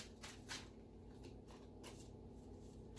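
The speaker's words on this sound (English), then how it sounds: "So I'm going to shuffle these pretty good again." Quick riffling bursts of playing cards being shuffled, several short flurries close by, fairly quiet with no talking.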